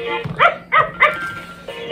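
A Peeing Pup toy puppy during a tabletop game gives three quick electronic barks in a row, close and fairly loud, over a faint steady hum.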